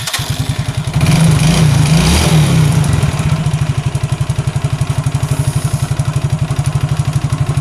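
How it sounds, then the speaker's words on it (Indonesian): A Yamaha Mio J scooter with lost engine compression is started. It gives a loud churning crank for a couple of seconds, then settles into a steady, rapid, chugging idle, close up and with no talk. "kayak gitulah cara untuk menghidupkan motor ini guys"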